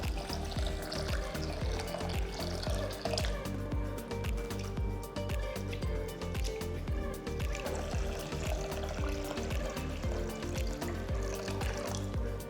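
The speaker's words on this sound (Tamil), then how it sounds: "ரெண்டுத்தையும் நல்லா சுத்தமாக கழுவிட்டு தேவையான அளவு தண்ணியை ஊற்றிட்டு" Water runs steadily into a vessel of rice and urad dal being washed and soaked, making a continuous close-up splashing pour with rhythmic sloshing and a few small clinks, and no voices.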